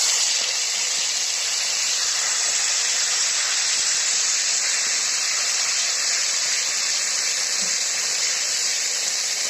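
Ghetkol leaf paste frying in hot oil with nigella seeds and dried red chili, a steady dense sizzle and hiss that holds evenly throughout, close and loud with no voices.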